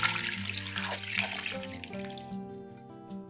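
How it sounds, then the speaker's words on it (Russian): Water runs steadily from a tap into a pot of washed tangerine peels, a broad rushing splash that gradually settles and quiets toward the end. "Уже промытые мандариновые шкурки кладем в кастрюлю и заливаем водой"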